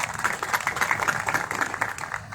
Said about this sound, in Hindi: अपने आप के लिए एक बार जोरदार तालियां बजाना।